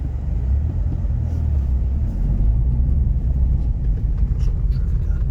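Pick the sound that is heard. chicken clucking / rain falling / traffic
traffic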